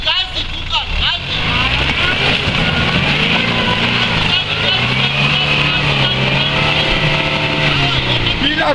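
A Toyota Land Cruiser Prado SX 3.0 turbo diesel (KZJ71) revving hard while climbing a muddy hill, loud sustained engine drone with wheelspin, people shouting directions over it.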